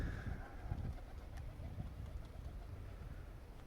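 Outdoors, pigeons coo softly in low, murmuring bursts against a faint, steady background rumble that could be a distant engine.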